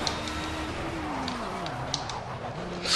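Marek RP 339H LMP1 prototype race car engine in the racing game Project Cars at the 24 Hours of Le Mans, a steady, droning engine tone that shifts pitch with throttle and gear changes, with brief tyre squeal near the end.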